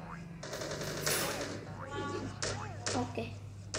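Rapid gunfire in a video game, with loud bursts of shots that cut in repeatedly over a steady hum and tonal game effects, and a voice talking underneath.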